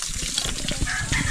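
Water gushes from a household tap, a close, continuous splashing rush that holds steady for the brief moment, with no voices.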